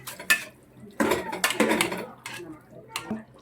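A spoon scrapes and clatters in a pot as beef biryani ingredients are stirred together, several short metallic scrapes and knocks in bursts with quiet gaps, close and clear.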